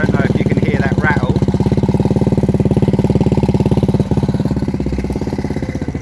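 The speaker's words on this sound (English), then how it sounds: "here's a quick sound test as well before I've taken the baffle out. I don't know if you can hear that rattle" A Lexmoto motorcycle idles with its stock exhaust baffle fitted, a close, loud, steady thumping putter with a metallic rattle from the baffle running through it.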